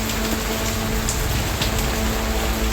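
Heavy rain pours down outdoors, a loud, dense and steady hiss of drops striking surfaces with a faint low hum underneath and no talking.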